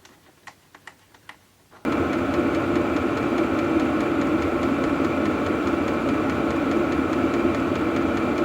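A Silvel diesel heater starts after a few faint ticking clicks, then settles into a steady, loud whirring hum with a constant fan and combustion drone that continues unchanged.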